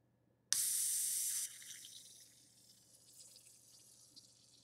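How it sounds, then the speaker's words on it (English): A Boddingtons Pub Ale nitro widget can pops open with a sudden loud hiss that holds for about a second, then fades into a softer fizzing that trails off, close up, with no talking. "always pop it to release some of the nitrogen and let it settle down before you crack it all the way open"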